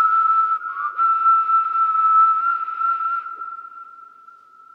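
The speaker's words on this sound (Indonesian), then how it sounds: "Siulnya sih gak perfect juga sih." A person whistles a song melody, one clear sustained tone that holds and slides gently, then fades out near the end.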